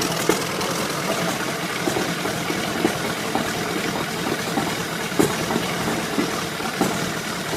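A classic pre-WWII diesel engine runs steadily with a loud, dense rumble and faint knocking pulses throughout, with no voices.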